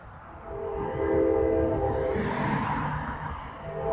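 A train passes through downtown Visalia, its horn sounding as a steady, loud tonal blast over the rumble of the cars, holding for several seconds and easing slightly toward the end.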